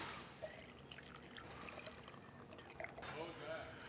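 Pomegranate margarita poured into a glass at a bar, giving a soft trickling, splashing liquid sound over steady room noise.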